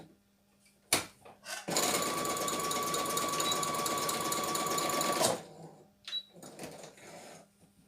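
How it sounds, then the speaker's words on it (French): Sewing machine running a zigzag stitch over elastic on a boxer-style waistband, a loud steady whir lasting about four seconds, framed by a few clicks and handling knocks before and after. "je vais rajouter un zigzag parce que l'élastique, ça s'effiloche"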